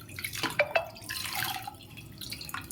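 Water splashes and drips as a dal masher is rinsed clean in a kitchen, a few close sloshes followed by softer trickling and drips.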